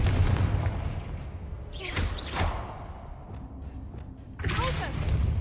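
Confringo blasting spell cast in a video game, two short whooshing blasts with bright crackling bursts over a constant low rumble, with speech in the background.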